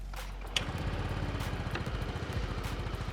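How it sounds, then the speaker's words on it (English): A TVS Jupiter 125 scooter's 125cc engine catches almost instantly with a barely audible integrated starter, then settles into a steady, close, pulsing idle with a light mechanical clatter. "you hear only the engine cranking up"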